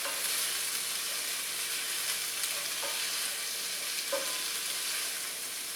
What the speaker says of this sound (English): Use my mad stir-fry skills, right?